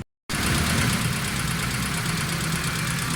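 A tuned Suzuki Cultus EFI engine idles steadily and loudly after a brief silent start, with a smooth, even running hum and faint ticking throughout.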